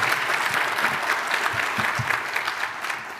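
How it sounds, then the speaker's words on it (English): An audience at the closing session of an international symposium on artificial intelligence and nuclear topics claps in steady, dense applause, filling the hall evenly from start to finish. "please give big round of applause for our moderator and the co-scientific secretary"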